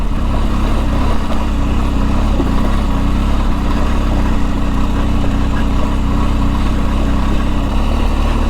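BMW R1250 GSA adventure motorcycle riding the rocky Switzerland Trail in Colorado, a steady low engine drone with rumbling and wind noise, continuous and close without any speech.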